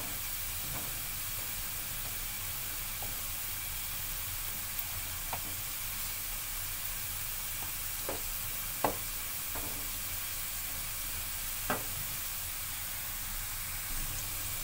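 Potatoes and carrots fry in a pan with a steady, soft sizzle and hiss, broken by a few sharp pops and crackles, no voices over it.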